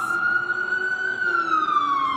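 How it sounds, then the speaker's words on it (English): A wailing emergency siren on a very busy street, one loud, close tone gliding slowly downward over a low traffic rumble, with no talk. "let's just wait for this siren to go down. Very, very busy street."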